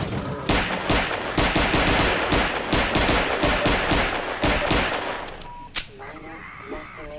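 Rapid automatic gunfire from the video game Half-Life 2, a fast string of loud repeated shots that thins out toward the end, followed by a brief short burst and game effects.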